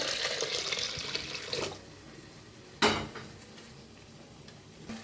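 Hot water poured into thick cooked dal in a pot, a broad splashing pour for the first second and a half, then a short sharp splash near the middle and quieter settling sounds.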